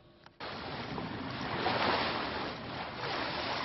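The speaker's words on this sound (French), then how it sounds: "Seul le bruit des vagues vient troubler leur méditation." Sea waves wash steadily around a sailboat, a broad continuous surge of water that swells in after a brief quiet start and stays at a moderate level with no voices.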